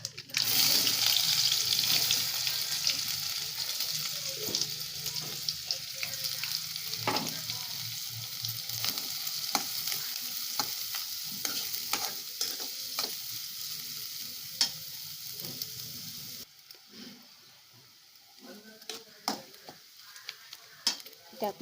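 Onion fries in hot oil with cumin seeds, a loud crackling sizzle at first that settles to a softer fry, broken by repeated spoon-stirring scrapes and taps.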